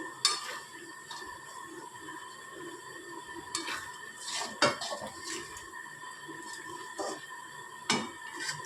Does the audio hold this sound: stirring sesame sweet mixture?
yes